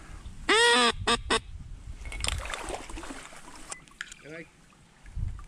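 A migrating flock of ducks or geese honks and calls overhead in short bursts during an October waterfowl hunt in Minnesota, while people talk quietly and gear rustles nearby in a boat or blind.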